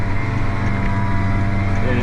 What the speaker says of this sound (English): we'll just drive it around here and taking the tractor for a little spin